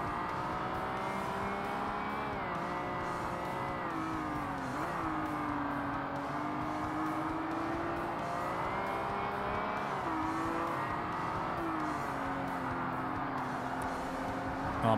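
A race car engine in the Forza Motorsport video game, hard difficulty, during an amateur heavyweight championship race, droning loudly and continuously with rising and falling pitch as it shifts through gears and accelerates, alone without talking.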